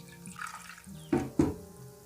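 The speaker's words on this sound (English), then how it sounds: "So as you can see, I'm adding a little water." Water poured from a vessel onto salted fish (koobi) in a cooking pot before boiling, heard as two brief close splashes over quiet kitchen background.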